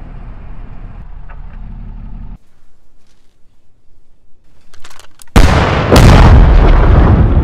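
A car-bomb logistics technical blows up in a Squad mod battle game: a steady engine drone cuts out, faint crackles follow, then a sudden heavy blast and a roaring, rumbling aftermath, loud and close.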